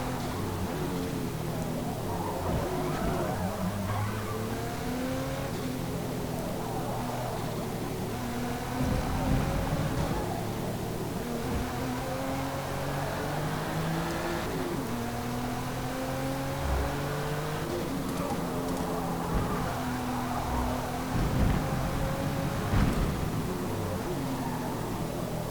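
A race car engine in Forza Motorsport drones and revs steadily throughout, with rising and falling pitch as gears shift, under a continuous mechanical hum.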